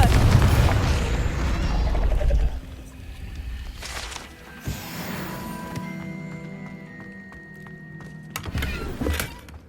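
A Confringo spell explosion in Hogwarts Legacy: a loud, deep fiery boom rumbles for a couple of seconds, followed by quieter magical swooshes and a second sharp burst near the end.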